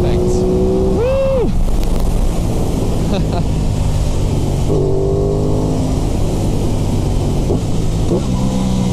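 An Aprilia Tuono 660 motorcycle ridden on the road, its engine revving up and dropping through quick rev-matched downshifts, loud and close under heavy wind rush, with a rider's voice briefly over it.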